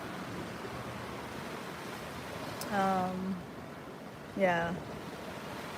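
Steady ocean surf washes over a beach, a constant broad roar mixed with wind on the microphone, while someone speaks briefly twice over it.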